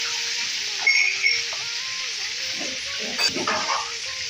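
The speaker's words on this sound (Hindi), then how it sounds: "ये आधा किलो चिकन है जिसे मैं फ्राई कर रही हूँ" Half a kilo of chicken frying with garlic in a pan for aloo chicken salan, giving a steady loud sizzle with intermittent spatula stirs and clinks, no speech.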